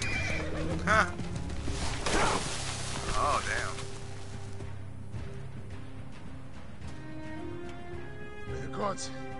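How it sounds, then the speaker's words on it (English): A horse in Assassin's Creed Origins whinnies loudly, with hooves clip-clopping and a person talking over it; another neigh follows later. "A horse."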